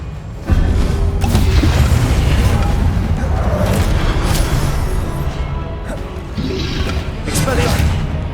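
Loud, continuous blasting from Confringo spells in Hogwarts Legacy rumbles and crashes throughout, with a short lull before a renewed burst, while a voice shouts spell names over it.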